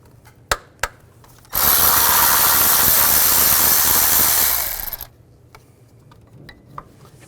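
A power tool with a 10mm socket spins a bolt out during a variable valve timing solenoid job on a Nissan Xterra, a loud continuous whir of about three and a half seconds between a few sharp metallic clicks, with no talking.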